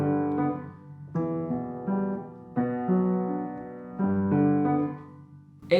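Solo piano plays the Kiki's Delivery Service main theme with an octave bass and an added offbeat note, notes struck every second or so and left to decay, quiet and close with no talking.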